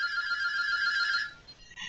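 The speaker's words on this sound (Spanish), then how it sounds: "Ese teléfono ansioso." A telephone ringtone sounds during an online webinar session, a bright electronic trill held for over a second before cutting off, moderately loud with nothing else around it.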